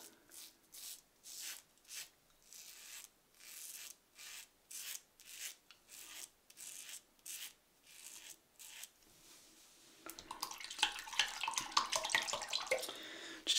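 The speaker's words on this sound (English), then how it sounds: "Blackland Sabre with the gem PTFE blade in it, shave number 10 or 11, and 4 days of growth" Rhythmic raspy scraping of a Blackland Sabre safety razor with a Gem PTFE blade cutting through four days of stubble, close and steady in short repeated strokes, followed by running water.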